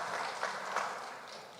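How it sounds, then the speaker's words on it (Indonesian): A church congregation at a Sunday service applauds, a steady, soft wash of clapping from a room full of people with no voices over it. "Tepuk tangan dulu deh buat Batra Kasih ini."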